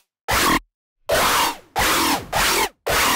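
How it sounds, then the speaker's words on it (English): Serum synth patch with a comb filter whose cutoff is modulated rapidly, giving hydraulic, pressure-release bursts: four loud broadband hissing blasts with short gaps between them, heard alone. "get really cool hydraulic type of sounds, like pressure release type noises"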